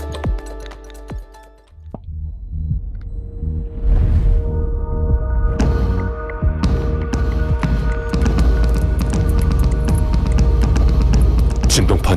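An RS3 bedding vacuum cleaner runs with a steady throbbing hum as its vibrating punch beats the bedding, rapid ticking taps over a loud, continuous motor drone.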